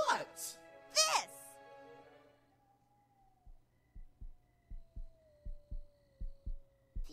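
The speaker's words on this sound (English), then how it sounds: "Feel that? Yeah? That's a heartbeat." A cartoon heartbeat effect thumps in a steady series of soft, low beats under a faint sustained tone, after brief voiced outbursts at the start.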